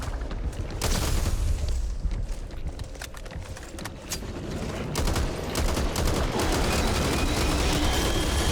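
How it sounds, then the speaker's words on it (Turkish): A grenade blows up in the zombie shooter Back 4 Blood amid a dense, loud wall of continuous gunfire and booming impacts, with no pause in the din. "Ağzına el bombası attım tam içine göre ha"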